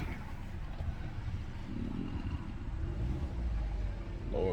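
A 2016 Hyundai Accent reverses with its engine idling in a low, steady rumble, close by, with a slight rise in engine note near the end.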